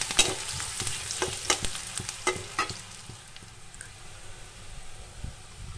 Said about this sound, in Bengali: গোটা জিরা ভেজে নিচ্ছি